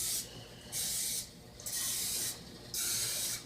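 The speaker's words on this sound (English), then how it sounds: "Then you take the spray and spray it in the pans to keep from sticking." Cooking oil spray hisses into baking pans in four separate bursts, each under a second long, close and sharp, with short quiet gaps between them and no voices.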